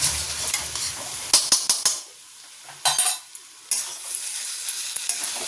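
Banana flower curry with ghee being stirred in a frying pan: scraping utensil strokes in short bursts over a soft sizzle, with quiet gaps between stirs.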